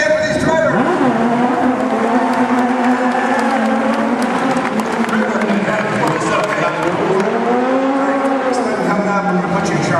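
Applause and cheering from a theme park stunt show audience for the drivers, a loud steady crowd roar layered with voices and an engine revving and whining underneath throughout.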